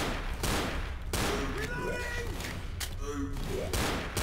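A burst of pistol fire in a zombie survival shooter game sounds as several rapid, sharp cracks in quick succession, fairly loud, with a player's voice chatting in between.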